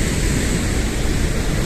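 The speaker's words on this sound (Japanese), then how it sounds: "さあ、滝だぞ、滝。 滝がすごい。" Broad, steady roar of rushing water from a mountain waterfall, a dense continuous hiss with no pauses, fairly loud and close, with no one speaking.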